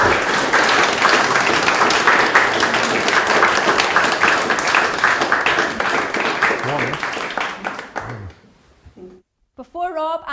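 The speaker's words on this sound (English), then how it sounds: "their success really does deserve another round of applause." Wedding guests applaud in a dense, steady burst of clapping for about eight seconds before it thins out and fades, followed by a brief quiet gap and a voice speaking.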